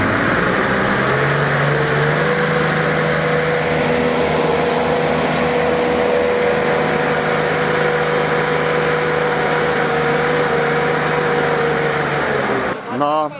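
A Star 266 military truck engine labors in deep mud under several tons of load, a loud, steady droning rumble with a sustained strained tone that holds for over twelve seconds before cutting off abruptly.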